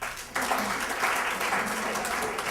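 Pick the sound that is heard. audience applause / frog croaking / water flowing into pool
audience applause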